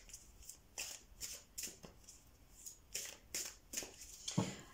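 Tarot cards being shuffled close up in a quiet room, a series of about eight crisp riffling bursts in a steady rhythm, with no talking.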